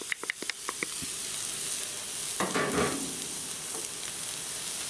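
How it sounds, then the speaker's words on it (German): Onions sizzling and frying in hot oil in a pan, a steady close hiss with a few sharp crackles and stirring scrapes near the start and middle, with no talk. "Die werden wir jetzt erstmal in der Pfanne schön scharf anbraten."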